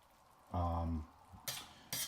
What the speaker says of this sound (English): I'm going to lower my heat a little bit and let this simmer, checking and stirring frequently so our potatoes do not stick.